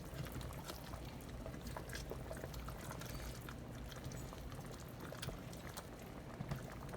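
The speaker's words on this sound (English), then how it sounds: "A little bubbling going on in there." A soup mixture in a pot comes up to a gentle boil, giving a faint, steady bubbling and simmering texture that runs evenly throughout with no voices.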